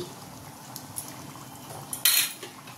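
A spoonful of ghee added to paneer tarka, faint background sizzle with a few light utensil taps, then a sudden bright hiss as the ghee hits the hot pan near the end, close, no talk.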